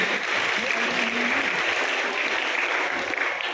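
Steady audience applause rolls through a gathering at a school science and mathematics fair, welcoming a guest with continuous, fairly close clapping and no break for its few seconds.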